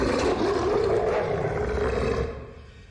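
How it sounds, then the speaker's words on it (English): A deep, sustained roar from a creature, used as a sound effect, stays loud and rough for about two seconds before trailing off. "The creature reared back its head and let out the most terrifying roars I have ever heard."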